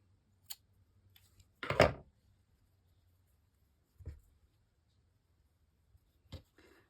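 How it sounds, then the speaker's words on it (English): Scissors snip through yarn in a quiet room, one clear crunchy cut followed by a few faint, sparse clicks and snips. "Cut our yarn."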